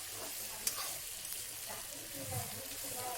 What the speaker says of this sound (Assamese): গোটেই চিকেনখিনিতে ভালদৰে তেল লাগি যোৱালৈকে মিক্স কৰি থাকিব।